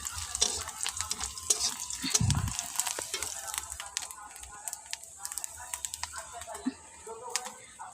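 A vegetable curry with five-spice, dried red chilli and onion is stirred in a pan, giving a soft sizzle under repeated scraping and clinking of a utensil, fairly close, while someone talks.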